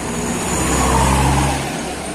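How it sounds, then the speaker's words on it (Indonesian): A Honda Beat scooter-style motorcycle, parked for a battery test, runs at a steady, close idle, its low even engine drone holding throughout with a slight swell near the middle. "Dan motornya langsung kita hidupkan ya"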